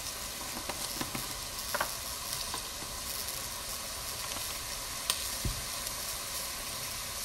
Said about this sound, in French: je l'ai laissé frire pendant 10 minutes